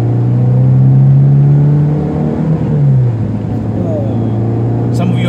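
A 2006 Proton Savvy 1.2i engine drones steadily while the car is driven, a close, loud in-car hum with a slight rise and fall in pitch as someone talks over it.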